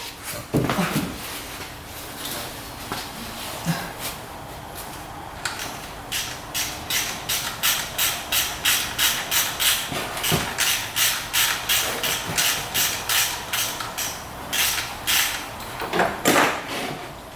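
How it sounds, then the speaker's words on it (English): A ratchet or wrench backs out the oil drain bolt on a UTV engine, its rapid clicking strokes repeating steadily and close, with brief clanks and handling noise around them. "Let's get the oil bolt out."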